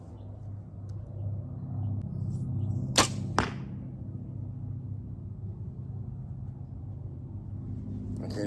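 Two arrows loosed in quick succession from a bow fitted with an EZ-V sight, each a sharp, close release snap, over a steady low outdoor rumble with no voices.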